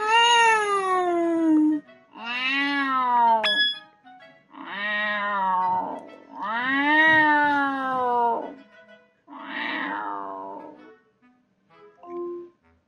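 A cat gives a series of about six drawn-out meows, loud and close, separated by short pauses, the last one shorter and fainter.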